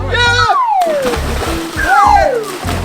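Children jump into a cold pool, water splashing and sloshing loudly and close, with excited shouting and chatter from children and an adult throughout.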